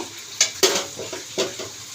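Pumpkin stalks in a pan are tossed with spices, a close sizzle with several scraping stir strokes of the spatula against the pan.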